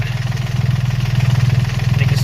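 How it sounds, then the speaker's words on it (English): A boat's inboard engine runs steadily with the seacock open, a low, even rhythmic chug that holds at constant idle throughout, close and fairly loud, with no voices over it. "The engine is now running, the seacock on."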